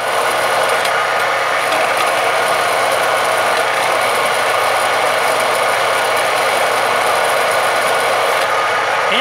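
A homemade metal lathe takes a final cutting pass on a workpiece, giving a steady, loud broadband grinding whir with constant machine hum throughout, with no talk.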